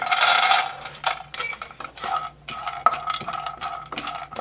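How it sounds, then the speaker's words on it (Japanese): Cashew nuts are stir-fried in oil in a nonstick frying pan over low heat, with repeated close scraping and clinking of a utensil against the pan and a faint sizzle underneath. "カシューナッツが焦げないように炒めてください。"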